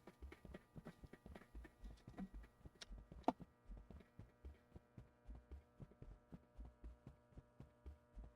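Footsteps in the video game Backrooms fall in a steady, even rhythm of soft thudding steps over a low ambient hum, fairly quiet and without talk.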